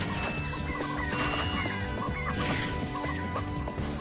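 Squawking, clucking chicken sounds from enemies morphed into chickens by the Morph weapon in the Ratchet & Clank HD Trilogy, a busy run of short bird calls over steady game music and effects.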